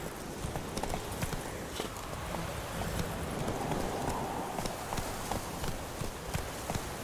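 Roach, the horse in The Witcher 3, gallops with steady rapid clip-clop hoofbeats, close and continuous, over a busy game ambience.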